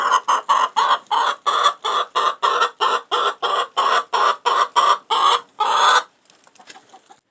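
Chickens in a winter coop inside a workshop cluck in a quick, regular run of about fifteen loud, evenly spaced calls close by, then a few faint, scattered clucks trail off.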